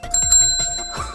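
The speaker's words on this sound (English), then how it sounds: "A bell! Listen!" A bicycle-style bell rings in a playful children's pirate-themed setting, several bright rings in quick succession, loud and close, with no talk.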